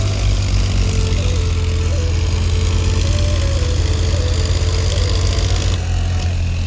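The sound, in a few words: tractor engine running while stuck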